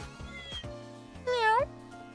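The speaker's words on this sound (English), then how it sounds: "It was a meow with a question mark." In the video game Trails in the Sky, a cat gives one short rising meow that stands out clearly between low background music and effects.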